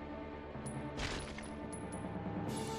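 Gunfire from a handgun-type weapon in the survival horror game Resident Evil Zero, a few sharp shots with a burst near one second and brief clicks, over a steady game background hum.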